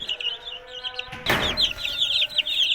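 Ornamental chickens cluck and chirp close by, high calls repeating over a short span, with a brief rustle in the middle.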